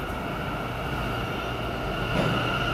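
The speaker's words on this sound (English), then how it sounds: "Now there is a C train." NYC subway C train on the 8th Avenue line rumbling through the station at 14th Street, a steady mechanical drone with tonal hum and a faint squeal near the end.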